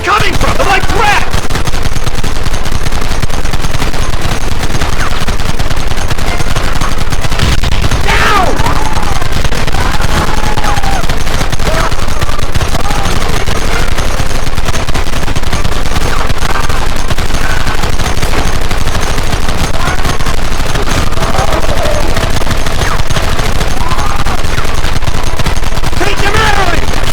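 Gunfight in the video game Red Dead Redemption, a dense, loud and constant barrage of overlapping gunshots with scattered shouting mixed into the chaos.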